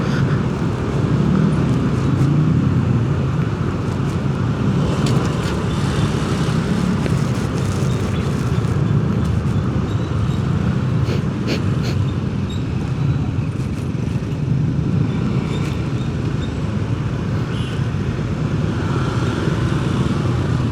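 Heavy late-afternoon traffic jam on a city street in Medan, Indonesia, with motorcycles and cars. A steady, dense rumble of engines fills the whole stretch, close and continuous, with no talking.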